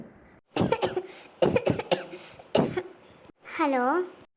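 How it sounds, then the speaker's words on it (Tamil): Several harsh bursts of coughing in quick succession, close and loud, ending with a drawn-out vocal groan. "ஏன் இப்படி இருமுறீங்க?"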